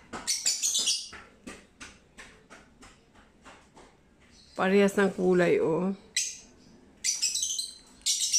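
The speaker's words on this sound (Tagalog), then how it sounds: "Ang sarap lang na huni nila," Pet lovebirds chirp in short, sharp repeated tweets in a bright rhythmic series, then a louder burst of rapid warbling chatter, with someone talking over parts of it indoors.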